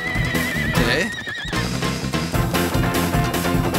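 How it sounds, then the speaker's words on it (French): A horse whinnies loudly with a wavering, high neigh, followed by busy background music and clattering hooves. "Un cheval! Un cheval!"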